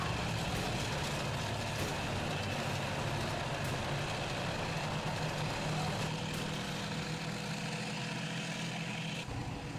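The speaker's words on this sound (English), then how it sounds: "Oh, the engines on these beasts are just absolutely insane." Heavy IS-2 tank engines rumbling in a video game, a steady loud diesel roar with clanking and grinding texture throughout, dropping away abruptly just before the end.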